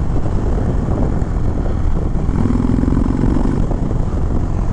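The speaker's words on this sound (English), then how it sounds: "Full throttle." Loud, steady engine roar from a 2021 Indian Chief Springfield Dark Horse motorcycle at full throttle, rising in pitch midway as it accelerates, with heavy wind buffeting throughout and no talk.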